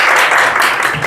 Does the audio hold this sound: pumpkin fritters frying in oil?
no